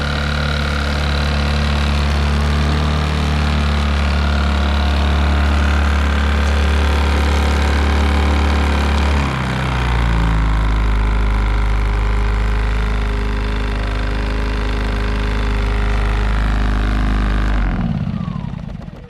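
A boat engine idles steadily and loudly throughout, a low droning rumble that briefly shifts pitch partway through before cutting off near the end.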